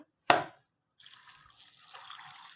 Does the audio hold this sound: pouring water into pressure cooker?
yes